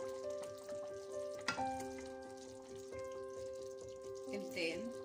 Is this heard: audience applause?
no